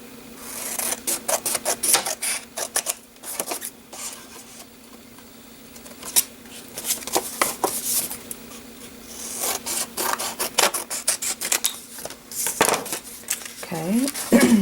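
Paper for a fold-out greeting card is rubbed, scraped and sliced in a steady run of close, dry scratching strokes with short pauses, and a final louder cut comes near the end.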